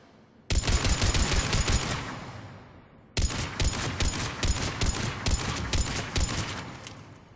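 In Mass Effect 3, a Mattock rifle fires at mid-range in two loud, rapid bursts of sharp shots, the first lasting over two seconds, then a brief pause before a longer volley, with no talking.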